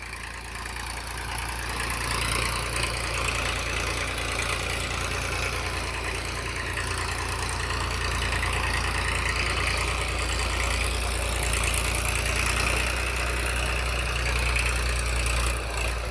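A New Holland 3032 TX tractor engine with a new silencer idles slowly and steadily, a low, continuous rumble with a rhythmic knock, close by and unchanging.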